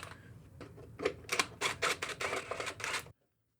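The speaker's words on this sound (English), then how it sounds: "We'll just take the 2 3/8 head bolts off that hold your plastic cover on." Head bolts being removed from the plastic cover of a Troy-Bilt TB200 push lawn mower: a close run of rapid, even clicking lasting about three seconds, then abrupt silence.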